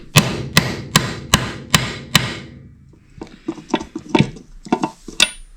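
A 7/8 inch deep socket hammered to press a mechanical seal into a Kawasaki KLR650 engine: five loud, evenly spaced metallic strikes, then a quicker run of lighter taps.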